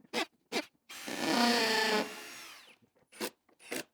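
A power drill drives a screw into a melamine concrete form held in clamps, a steady whirring grind lasting about a second and a half, framed by brief knocks and taps from the workpiece before and after.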